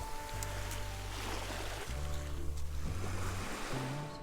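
Sea waves washing ashore about twenty metres in front of a seaside hotel on Rhodes, a steady broadband surf wash with a faint low mechanical hum underneath and no voices.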